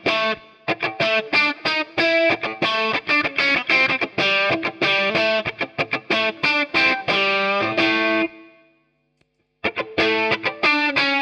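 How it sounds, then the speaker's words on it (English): Electric guitar played straight into a crunchy, overdriven Plexi amp with no added effects, strumming rhythmic chords and riffs, then a short pause before it resumes. "So the guitar straight in sounds like this."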